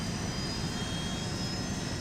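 Jet engine on a Fokker F100 airliner in Microsoft Flight Simulator 2024 spooling up during start, a steady broadband roar with a thin high whine, constant level throughout.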